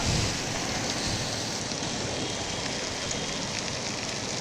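Sudden unseasonal afternoon rain pours down over Amravati city, a steady, loud, even wash of rainfall with no pauses and no voices.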